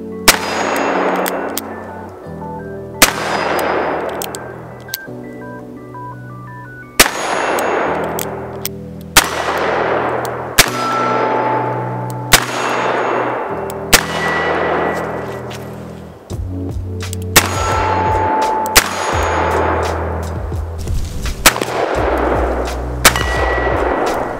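A Chiappa Rhino 60DS revolver fires a run of loud, close gunshots, each a sharp crack with a ringing metallic tail. About a dozen irregularly spaced shots come with short pauses between them.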